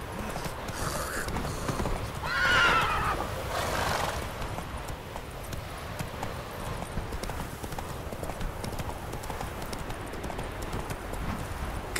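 Roach, the horse in The Witcher 3: Wild Hunt, gallops with rhythmic clip-clop hoofbeats throughout, letting out a clear neigh early on over steady outdoor ambience.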